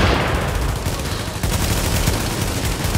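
Loud, dense burst of explosive blast noise from a grenade in a video game, filling the whole stretch with continuous rumbling roar and no pause.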